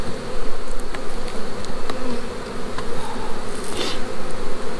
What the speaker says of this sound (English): all these bees are trying to get in, marching right up in that hive